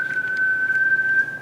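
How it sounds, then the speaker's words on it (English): A steady single-tone whistle plays back from a radio telescope sound file, a clean unbroken pitch held throughout over faint background noise. "a whistle, or a tone will be like that"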